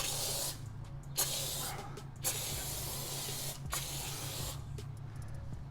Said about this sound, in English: So I have this iCase foam sprayer, which is no pressure washer needed.